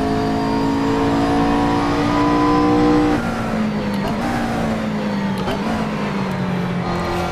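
A McLaren MP4-12C GT3 race car in the Assetto Corsa racing game at Circuit St-Jovite, Mont-Tremblant: a loud, steady engine drone that holds high revs, then drops pitch on an upshift and keeps running hard.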